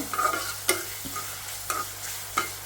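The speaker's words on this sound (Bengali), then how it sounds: "এখানে হলো আমি পেঁয়াজ কষাইতেছিলাম" Onions sautéing in a pan, a low steady sizzle broken by several sharp scrapes and clinks of a spatula stirring against the metal at irregular intervals, close and fairly quiet.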